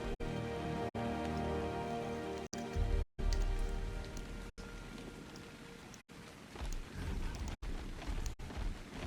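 Steady rain pours down in a survival video game, a continuous close hiss of drops on surfaces with brief cuts in the sound and no talking.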